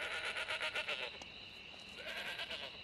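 Goats bleat in a quick series of wavering calls, then again after a short pause, clear and fairly close.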